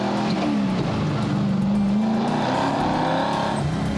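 A BMW M3 DTM replica race car revs hard, its engine note rising and falling through a few throttle blips and a sustained roar, loud and close with no voices.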